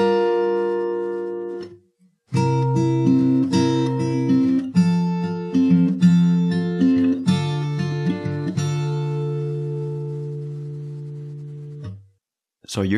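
Clean guitar chords played with a steady picking pattern, individual notes ringing out in sequence, with a brief silence near the start and a ringing final chord.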